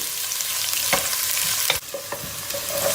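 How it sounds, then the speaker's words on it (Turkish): Onions sauté in a hot pan, a steady sizzle with a few scraping strokes of a spoon as they are stirred, close and with no talk. "Soğanımızı kavurma işlemine devam ediyoruz."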